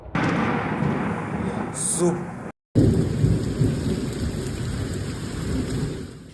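Heavy rain pours steadily in Tijuana, then a sharp, very loud thunderclap from lightning striking near a house cracks close by and rumbles on under the continuing downpour.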